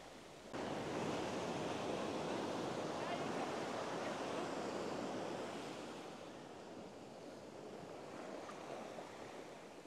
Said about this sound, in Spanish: Las costas del Pacífico, sus olas tan impresionantes.